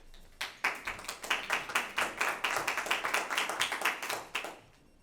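Town select board meeting audience clapping after a unanimous vote, a short burst of many hands with a ragged, fairly quick rhythm that swells and then fades over a few seconds, moderately near, with no talk.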